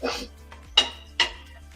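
Metal spoon scraping and clinking in a cooking pan as beef masala is stirred, a few distinct close knocks over a soft background hum.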